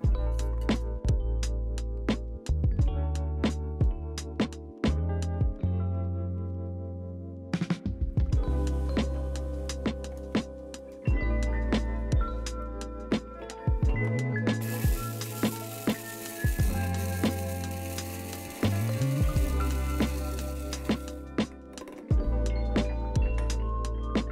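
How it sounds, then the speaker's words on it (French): Dried garden herbs are ground in an electric blender in repeated loud whirring bursts with short pauses between them, and hard bits clatter against the jar. "Je vais mettre ça dans le mixeur."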